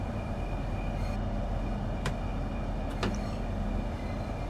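A Southeastern Highspeed electric train in Train Sim World 2 runs steadily, its constant low rumble and broadband rolling noise filling the cab, with a couple of brief sharp clicks or rail joint knocks partway through.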